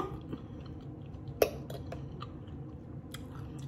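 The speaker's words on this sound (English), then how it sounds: "put it in your mouth and chew" Soul food being chewed close to the microphone, soft, quiet mouth sounds with a few crisp crunchy clicks and one sharper bite.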